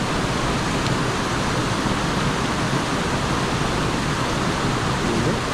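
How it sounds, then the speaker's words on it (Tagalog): Fast floodwater coming down from the mountains after heavy rain rushes past in a loud, unbroken roar of turbulent water, close and steady with no pauses. "Maririnig po nyo yung mas nangingibabaw yung ano ng tubig"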